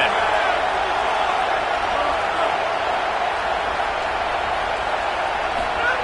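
Steady roar of a stadium crowd cheering in the American college football video game CFB27, a dense, continuous wash of noise with no clear breaks.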